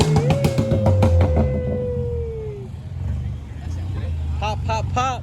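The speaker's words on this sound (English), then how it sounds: "Can you rev it, rev it?" A car's engine revs at a New Jersey car show, rising briefly over a steady low rumble while nearby crowd chatter and voices continue throughout.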